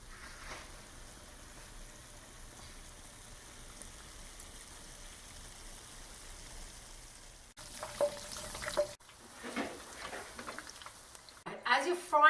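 Anchovy-filled zeppole dough drops into hot oil, a steady soft sizzle running throughout, then louder bursts of bubbling and clatter near the end, with a voice speaking faintly over it.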